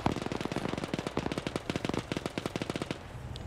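Sustained rapid AK rifle fire in a video game rattles in a steady full-auto stream for about three seconds. The shots are moderately loud and evenly spaced, then stop abruptly.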